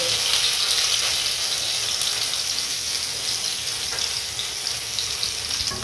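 Onions frying for pancit bihon, a steady broadband sizzle that holds at an even level throughout.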